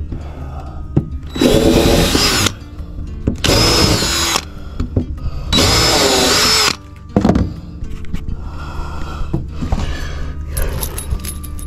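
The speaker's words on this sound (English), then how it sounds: "I'm gonna go ahead and pre-drill my holes." A power drill pre-drills holes into a wooden board, with three long loud whirring bursts separated by short pauses, then quieter handling clatter afterward, with no talking.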